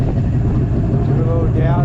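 A Mercury 240 Sport Jet inboard engine on a 2006 Willie Boats 22 Open Sport Jet starts up, a steady low droning rumble running close and loud for the whole moment, with a voice speaking over it.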